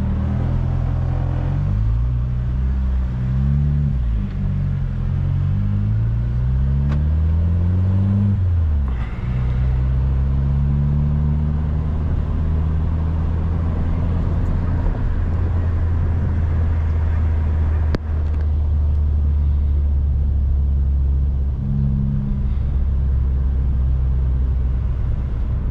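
A Fiat Strada 1.3 turbo pickup on 205/75 tyres, running on ethanol, rumbles loudly and steadily through the whole stretch. Its engine note rises and shifts through several revving sweeps early on, then settles into a smooth, close drone.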